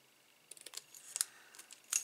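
Small craft scissors snip paper during card making, a few quiet, crisp cuts coming in short irregular bursts, with no talking over them.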